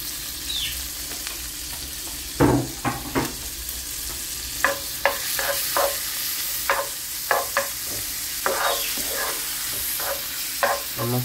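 Garlic and bacon fry in butter with a soft, continuous sizzle. A utensil scrapes and taps against the pan in a string of short, irregular strokes.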